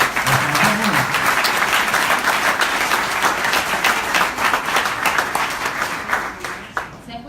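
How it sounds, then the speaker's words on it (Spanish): An audience at a talk breaks into loud, dense applause that holds steady for several seconds before thinning out toward the end, with voices mixed faintly into the clapping. "Fuerte el aplauso para la generación."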